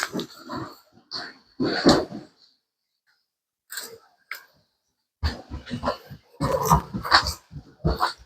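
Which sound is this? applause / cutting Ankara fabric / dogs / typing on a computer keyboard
dogs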